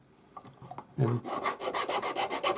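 A Swiss No. 2 cut hand file rasps across the metal of a bolo tie, starting with a few light scrapes and then settling into steady, close back-and-forth strokes.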